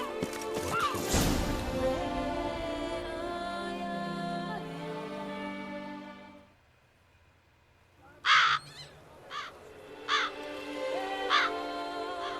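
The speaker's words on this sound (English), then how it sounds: "that's a lot of fucking crows" Crows caw in the video game The Witcher 3: Blood and Wine, with harsh repeated calls rising after a quiet stretch and sounding over game music and ambience.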